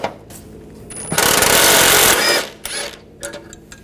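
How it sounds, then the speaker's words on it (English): A power tool spins out the bolts on a front bumper bracket of a 2004-2008 Ford F-150 through a 13mm socket, one loud steady burst lasting about a second, with shorter mechanical bursts before and after it. "use a 13mm socket. Take these bolts out."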